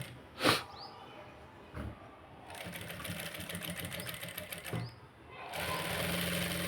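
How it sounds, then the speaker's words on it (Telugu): A sewing machine runs in bursts while stitching fabric, a fast rattling whir that starts and stops, with a few sharp clicks between runs. "ఇలా మనం స్టిచ్చింగ్ చేసేయాలి దీన్ని."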